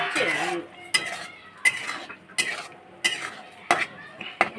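A metal spatula stirs meat masala in a cooking pan, scraping and clinking in steady strokes roughly every second over a soft sizzle, close and clear.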